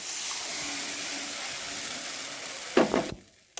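Dal paste stirred into cabbage gravy frying in a pan, a steady broad sizzle throughout, with a brief burst of louder scraping and bubbling near the end before it cuts off.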